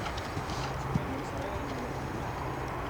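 A show-jumping horse at a riding clinic clip-clops across the arena in an even, moderately close hoof rhythm, with a person talking over it.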